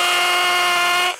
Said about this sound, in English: I'm gonna take my bit that I told you, the 3/16, and my hammer drill.